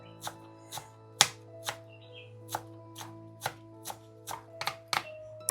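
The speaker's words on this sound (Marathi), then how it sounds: "दोन आनी सारके बारीक कांदो कातूनय तशें करून कातरूंक जायो" Onions finely chopped with a knife on a board, about a dozen evenly spaced, crisp chops, close and clear over a steady low background hum.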